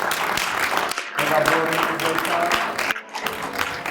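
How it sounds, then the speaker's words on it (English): An audience at a graduation ceremony applauds a graduate, a moderate burst of scattered clapping with a short break, while a person keeps speaking over it. "You all give her a hand clap."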